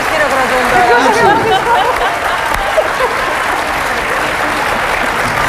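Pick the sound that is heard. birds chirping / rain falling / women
women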